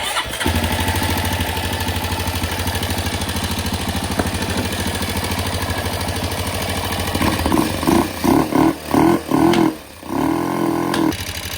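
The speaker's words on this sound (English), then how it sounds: "It sounds awful ticky, knocky up there." A Honda motorcycle engine idles with a rough, rapid ticking clatter from its valves, then revs in a few short bursts near the end, close and loud.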